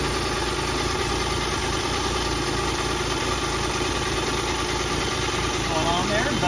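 A Geo Metro XFI engine fitted with a cheap eBay AMR500 supercharger runs steadily at a constant, close drone, with no breaks and no voices over it.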